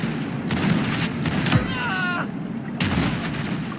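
Mag 7 pump shotgun fired in a video game, booming gunfire blasts with dense, noisy bursts over a steady game background, loud and close.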